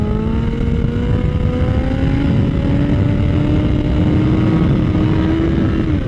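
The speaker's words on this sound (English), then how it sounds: "Now I'll give it even more throttle." Motorcycle engine held under rising throttle in second gear while lifting into a wheelie, a loud steady drone climbing gradually in pitch, close and continuous with no talk.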